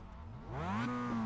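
Engine of a Mazda MX-5 revving in the iRacing sim, a steady tone that climbs in pitch then levels off at a sustained high whine, close and alone.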